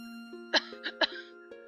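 A stifled cough from a character in the visual novel game Air: two or three short muffled bursts over a sustained musical tone, close and fairly quiet, with no speech.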